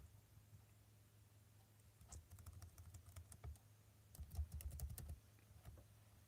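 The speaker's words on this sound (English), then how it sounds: "I'm going to type that in now." Typing on a computer keyboard, close but quiet, with a quick burst of key clicks followed after a pause by a second denser flurry of tapping.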